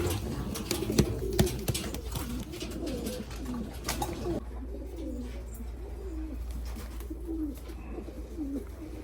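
Fancy pigeons, including Modena and Şami breeds, coo in soft repeated phrases close by, with a few scattered knocks and rustles early on.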